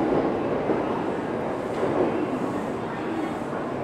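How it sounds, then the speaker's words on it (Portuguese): A Japanese bullet train at a station in Kyoto, a steady broadband rumble and hiss of the arriving and departing train filling the platform, loud and continuous without a break. "E olha aqui o trem bala, bonitão. Acabou de chegar esse aqui, já tá saindo."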